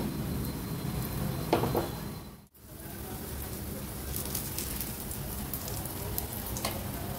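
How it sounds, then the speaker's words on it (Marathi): Soft, steady sizzle of potato patties frying in oil, a continuous crackling hiss with a brief dip partway through, fairly quiet and close. "अशा मी गुलाबी रंगावर सगळ्या टिक्क्या तळून घेते"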